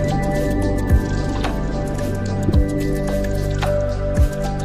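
Gandahati waterfall in Srikakulam: a steady, broad rush of falling and spraying water with loud wet splashes and drips standing out now and then.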